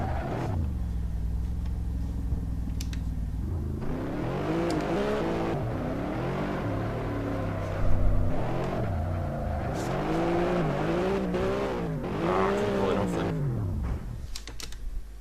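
A Nissan Skyline engine in Assetto Corsa revs and whines in rising and falling sweeps as it drifts, with tyre-like squeals, keyboard clicks, and a voice talking over it.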